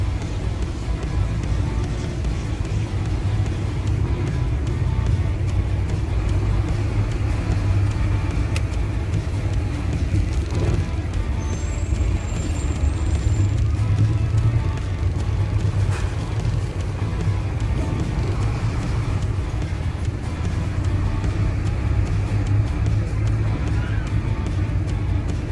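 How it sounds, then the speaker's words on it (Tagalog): City road traffic in Cagayan de Oro heard from inside a vehicle: a continuous low engine rumble and road noise with passing vehicles, steady and close throughout. "Sobrang traffic dito sa Cagayan de Oro,"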